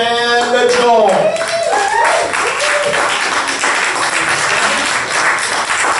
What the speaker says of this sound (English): Where did that extremely enthusiastic clapping guy go?